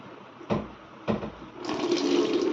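Heavy rainwater flooding into a room through the roof: two dull knocks, then a steady, rushing pour of water building close by.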